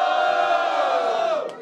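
Crowd at a Brazilian rap battle, the Batalha do Galo, roaring and shouting together in one loud sustained cheer that holds steady and then tails off at the end.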